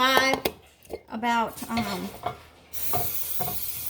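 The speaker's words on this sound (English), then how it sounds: "These are little small shrimps. Give it a quick stir." Small head-on baby shrimp given a quick stir in a frying pan for Vietnamese pancakes: a few scraping utensil strokes and clinks against the pan over a soft sizzle, close and moderately loud, with a brief voice early on.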